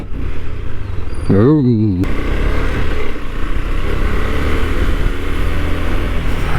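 KTM Adventure 390 motorcycle being ridden, a loud steady engine drone with heavy wind buffeting, briefly interrupted by a warbling wavering tone before the constant roar resumes; a voice is faintly present under the noise.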